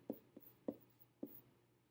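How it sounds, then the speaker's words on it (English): A pen or marker writing out a recursive function call by hand, heard as three soft scratchy strokes spaced evenly apart, quiet and close, with no talking. "I'm going to write down the function call."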